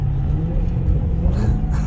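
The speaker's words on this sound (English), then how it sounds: "Did you hear that downshift?" Maserati Quattroporte Sport GTS engine blipping on a downshift, a deep close rumble with a brief rising rev toward the end, heard from inside the car with no talking.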